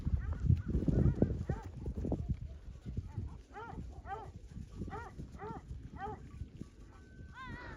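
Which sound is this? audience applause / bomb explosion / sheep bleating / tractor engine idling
sheep bleating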